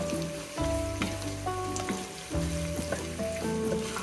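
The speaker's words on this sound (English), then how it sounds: "add 2 tablespoons of butter and go ahead and let that melt down a bit" Two tablespoons of butter melt and sizzle over translucent onions in a pot for spicy corn and chicken soup, a steady close crackle under a tonal background of music, with no voices.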